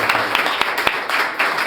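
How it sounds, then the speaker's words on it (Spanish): Debate audience bursts into strong applause for a panelist, a dense wash of clapping with a few sharper claps standing out, fairly loud and steady over the short stretch. "Le damos un fuerte aplauso a Vanessa"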